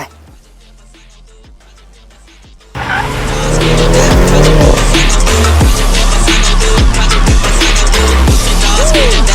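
Mini cars racing on track on Giti GitiSport GTR3 tires, two cars released together: loud engines roar close by with repeated sharp tire squeals and skidding, after a quieter lead-in of about two and a half seconds.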